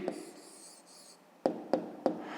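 A pen writes out an answer on paper, a soft scratchy stroke followed by three short distinct taps or strokes, close and quiet.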